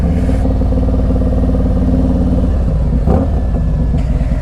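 A Harley-Davidson Street Glide Special FLHXS motorcycle engine runs with a deep, throaty, steady idle rumble, loud and close, with a brief clattering blip near the end.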